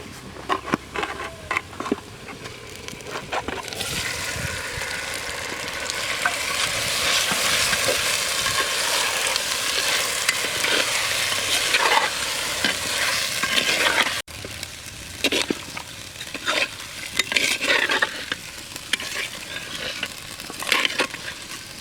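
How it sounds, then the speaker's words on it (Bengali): Mutton frying with browned onions in a pot, a loud continuous sizzle close up with repeated scraping and stirring strokes, the hiss swelling midway and then settling into rhythmic stirring scrapes. "লাল লাল করে ভাজা হয়ে গেছে, আর আমি মাংসটা দিয়ে দেবো।"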